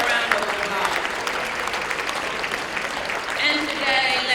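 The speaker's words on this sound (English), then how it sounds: "Let's give her a round of applause." A room full of people applauding at a NAACP Freedom Fund dinner, a continuous wash of clapping that holds steady and swells slightly near the end.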